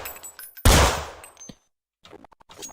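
A single loud Glock pistol shot rings out in the futuristic shooter game Counter Strike NEO, a sharp blast with a short decaying tail, followed by light mechanical clicks.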